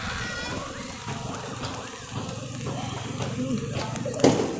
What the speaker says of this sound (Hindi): लेकिन बारिश बहुत तेज़ हो चुकी है।